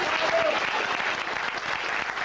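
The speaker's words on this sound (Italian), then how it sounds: "vorrei intanto facessimo un grande applauso intanto a lui." Theatre audience applauding at a live show in Rome, a dense, steady wash of many hands clapping close and loud for the whole stretch, with no talk over it.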